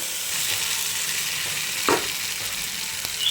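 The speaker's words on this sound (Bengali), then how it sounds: "এখন আমি ফুলকপিটা দিয়ে দিব" Cauliflower in a hot pan gives a steady, loud, close sizzle, with a brief clatter of stirring partway through.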